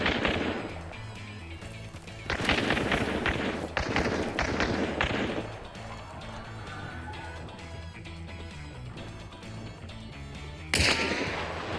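Video game gunshots from Hunt: Showdown, a cluster of sharp loud shots and thuds early on, then quieter ambient game sound before one more sudden loud shot near the end.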